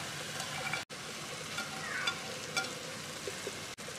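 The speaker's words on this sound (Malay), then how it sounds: "Kita goreng lah sekarang ni." Rice being stir-fried with fish sauce and fresh herbs, giving a continuous close sizzle with scraping stirring strokes and two brief dropouts.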